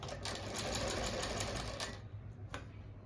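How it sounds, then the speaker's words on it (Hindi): An electric sewing machine runs a fast, steady stitching whir while a pocket is sewn onto a palazzo, close and continuous for about two seconds before slowing to a stop with a brief final burst. "किनारे पे ही सिलाई चलानी है हमने।"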